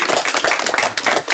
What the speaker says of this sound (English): So you'll give him a round of applause,